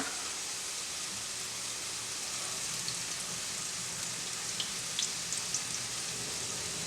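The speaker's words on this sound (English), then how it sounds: "That peanut oil going. You can smell this, you can hear the sear rather on that." Prosciutto-wrapped shrimp sear in peanut oil in a steady, hissing sizzle with a few faint pops, close and even, with no talking.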